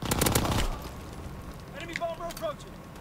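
A quick, loud burst of rapid automatic gunfire in a WWII-era multiplayer shooter game fades out after the first moment, followed by faint in-game sounds and brief voice-like calls.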